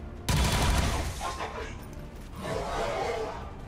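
A soldier's weapon firing in the turn-based tactics game XCOM 2, a sharp loud report followed by a long rumbling, crackling tail that swells again faintly toward the end.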